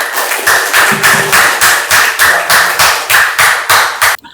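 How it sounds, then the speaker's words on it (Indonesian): Classroom applause for a student, a steady burst of hand clapping from a group with rhythmic pulses that carries on for several seconds and then stops abruptly. "tepuk tangan buat Tiara"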